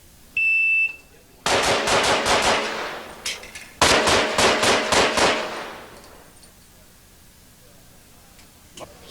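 Rapid pistol shots from a stock .45 at a competition shooting match ring out loud and close in two quick bursts of five or six, with a beep before them and a voice speaking briefly.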